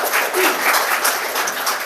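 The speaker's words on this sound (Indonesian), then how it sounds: "tepuk tangan dulu untuk para narasumber kita" Steady, fairly loud audience applause at a campus talkshow, a continuous wash of many hands clapping with no break.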